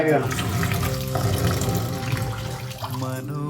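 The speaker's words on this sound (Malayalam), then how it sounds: "സ്റ്റാർച്ച് എല്ലാം പോകുന്ന വരെ കഴുകണം" Grated cassava is washed by hand in water, giving close, continuous splashing and running-water sounds with a voice speaking underneath.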